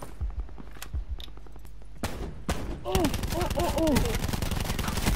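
Rapid gunfire crackles in Call of Duty: Black Ops 4 Blackout, scattered shots at first, then denser bursts of automatic fire, with a voice talking over it.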